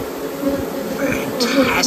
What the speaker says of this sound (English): The bees are starting to fan their wings.